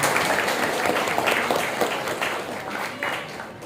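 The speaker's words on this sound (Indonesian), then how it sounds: "Oke, tepuk tangan." Audience clapping at a journalism training session, a dense burst of applause that carries on for a few seconds and gradually thins out, with a faint voice mixed in.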